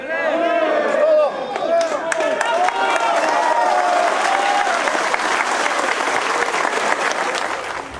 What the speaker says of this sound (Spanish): aplausos en esa zona de Michoacán